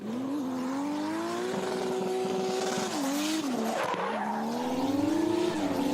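A drift car at the Borneo Star Drift Series 2025 Round 2 slides at big angle with a loud, continuous engine roar and tire squeal, the pitch dipping and rising as it transitions through the course.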